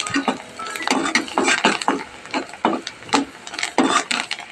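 A utensil stirs chili powder and salt through eggs in a pan for egg fried rice, making close, repeated scraping strokes and metallic clinks at an uneven rhythm.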